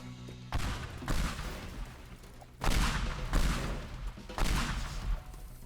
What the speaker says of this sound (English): Pipe bombs.